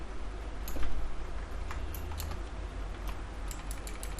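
Rapid clicking of keys on a computer keyboard during a live C coding session, steady irregular taps close to the microphone with a low background hum, no talking.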